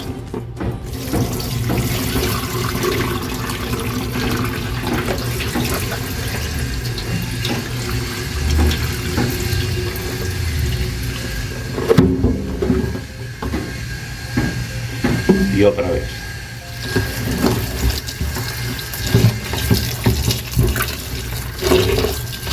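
Tap water runs steadily into a sink as starchy food is rinsed in a kitchen. The splashing is close and continuous, with occasional clunks of handling and brief speech over it.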